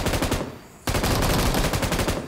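Automatic gunfire from a PUBG match, rapid bursts of shots that pause briefly and then resume as a dense, loud volley with no talk over them.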